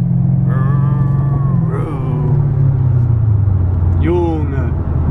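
Mercedes-Benz CL500 C216 V8 engine held at a loud, steady low rumble throughout, with a few short rising revs layered over it while people talk nearby.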